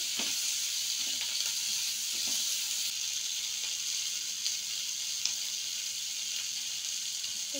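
Onion and capsicum frying in a pan for chilli paneer give a steady, even sizzle that runs without a break, with a few faint clicks and knocks from the pan.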